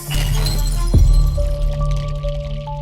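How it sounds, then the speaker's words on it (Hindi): A glass of water drops and shatters in a kitchen, one sharp crash near the start over a low, sustained drone that keeps going afterward. "डर के कारण पानी का ग्लास नीचे गिर जाता है।"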